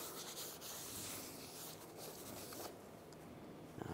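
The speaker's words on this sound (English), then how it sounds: "Clean the backside, just use a rag, wipe it off, turn it around." A rag rubbing over a rear brake part from a 2006-2009 Mercedes-Benz E350, a close, continuous scratchy wiping that eases off near the end.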